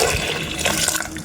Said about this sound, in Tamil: பருப்பு மூழ்கிற அளவுக்கு தண்ணி போட்டுக்கோங்க.